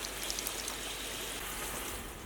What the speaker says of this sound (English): You just hit the switch and you got nice adjustable hot water